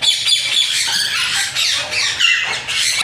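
A breeder pair of caged birds squawks loudly and continuously at close range, with harsh, repeated calls overlapping throughout, and no voice is heard.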